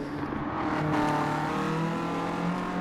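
A race car engine in a sim racing league event drones steadily, its tone holding and slightly shifting pitch as it accelerates, loud and continuous with no talk over it.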